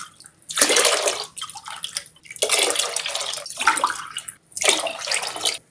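Water is poured by the tumbler into a pressure cooker holding pearl millet for porridge, in four splashing, gushing pours separated by short pauses, loud and close.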